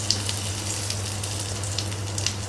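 Mustard seeds with asafoetida crackle and pop in a little hot oil, a continuous fine sizzle with scattered sharper spits over a low steady hum.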